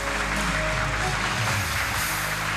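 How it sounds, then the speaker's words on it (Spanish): Studio audience applauding the winning contestant of a Spanish-language TV quiz show, a steady, dense wash of clapping that holds at even loudness for a couple of seconds. "Un aplauso para ella."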